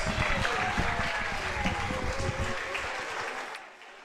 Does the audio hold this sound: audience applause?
yes